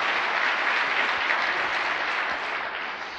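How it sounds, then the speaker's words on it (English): Steady audience applause at a retreat session, a dense, even wash of many hands clapping continuously for about three seconds before easing slightly at the end. "let's give them all a big round of applause"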